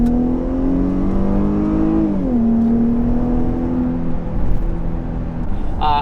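A Jeep Grand Cherokee SUV engine revs up under light throttle, climbing in pitch, dipping briefly, then settling into a steady, loud drone, with a short higher whine near the end.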